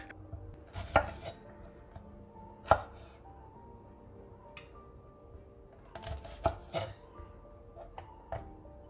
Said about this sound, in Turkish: Biberlerin uçlarını kestim.